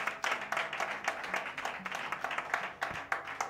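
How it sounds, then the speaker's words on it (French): A church congregation claps during a service, producing a steady wash of many hands with rhythmic bursts of louder clapping, close and fairly loud throughout. "Alors applaudissez sérieusement."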